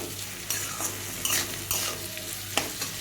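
A spoon scrapes and clatters against a pan while salted vegetables are stirred and fried for jhal suji, with several distinct scraping strokes over a low, steady sizzle.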